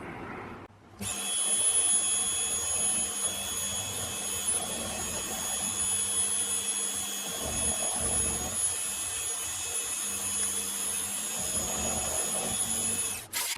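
A power tool cuts a piece of steel angle with a loud, steady high-pitched whine that runs without pause from start to finish, while a lower grinding drone rises and falls underneath.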